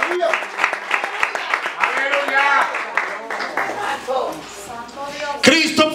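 A church congregation claps with sharp, rapid hand claps, heard under a preacher's loud, continuous speaking voice.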